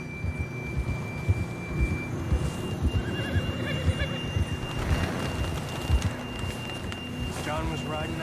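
A horse whinnies in a Western video game, shrill neighs rising over clip-clopping hooves, wind and a steady tone, while voices talk throughout.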